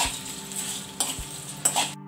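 Whole spices such as cloves, star anise and mace are stirred while dry-roasting in a pan, with soft scraping and a few sharper clinks against the metal over a faint sizzle.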